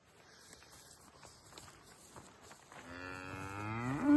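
A cow lows out on farmland along Hadrian's Wall near Bowness-on-Solway, one long, rising, close moo that comes in loud after a few seconds of quiet outdoor rustling and footsteps.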